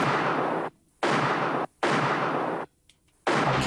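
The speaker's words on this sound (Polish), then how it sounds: "Kaczyński strzela kilka razy." Several loud gunshots fired in a café ring out close by, four sharp heavy bursts separated by brief silences, each with a short rumbling tail.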